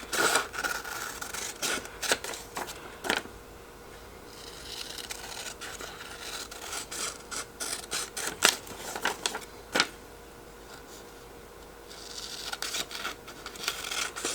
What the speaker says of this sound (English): I'm just using my scissor, like, just to get rid of the excess